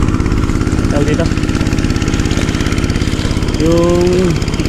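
An engine runs steadily at a loud, rhythmic idle throughout, with a voice briefly speaking over its chugging.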